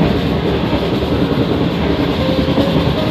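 A passenger train runs on rails near Rawalpindi, producing a loud, continuous rolling rumble with steady rail noise throughout.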